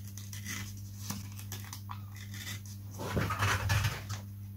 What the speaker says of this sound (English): It's going to be easier to do it with scissors.